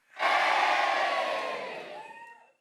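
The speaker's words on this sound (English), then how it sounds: "You win a cheer!" A crowd cheers and whoops loudly in one burst that swells at once, then slowly fades over a couple of seconds, with no other sound around it.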